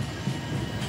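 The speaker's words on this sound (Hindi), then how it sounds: "सो यहाँ एक ट्रेन आ रही है, पैसेंजर ट्रेन है शायद से, एक उत्कृष्ट रेक के साथ।" Passenger train hauled by an EMD locomotive passing in the Trainz Simulator game, a steady low rumble of rolling stock without any clear clatter, close and continuous.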